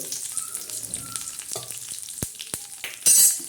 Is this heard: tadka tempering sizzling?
yes